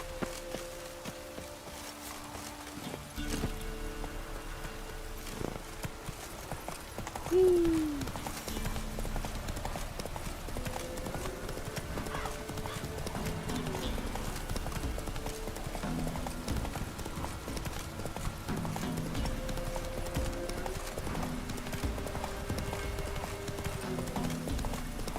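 Witcher 3 horse hooves clip-clop in a steady walking rhythm in a video game, heard clearly and fairly close over a continuous game soundtrack, with a brief whinny-like sound partway through.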